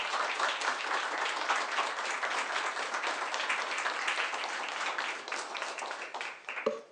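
A lecture audience applauds as speaker Bill Schambra is welcomed: dense, steady clapping from many hands that continues for several seconds before fading out at the end.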